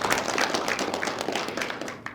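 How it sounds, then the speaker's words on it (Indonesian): An audience at a regional parliament dialogue forum in Banten claps together in a dense, steady patter of many hands, moderately loud and continuing throughout without talk. "Boleh tepuk tangan kembali teman-teman?"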